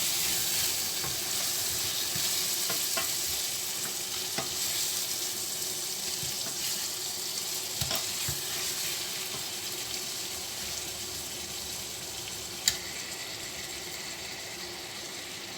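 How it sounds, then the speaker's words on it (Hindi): Bone-in chicken leg pieces fry with garlic in a pan for chicken korma, producing a loud, dense, continuous hiss of sizzling oil with a few faint clicks and one sharp knock near the end, no speech. "अब चिकन डालते हैं। चलिए हम चिकन भी डालते हैं।"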